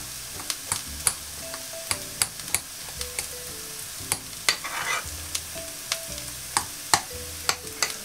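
Onions sweat in a pan for a Spanish tortilla, with a soft, steady sizzle under repeated sharp knocks and scrapes of a utensil against the pan at an irregular pace.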